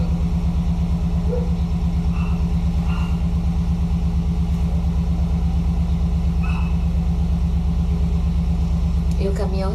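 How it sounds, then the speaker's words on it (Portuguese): A truck sits idling just outside a window, its engine running in a steady, loud low rumble with a regular throb that continues throughout, with a few faint brief sounds over it. "E o caminhão resolveu ficar parado, ligado, do ladinho da minha janela"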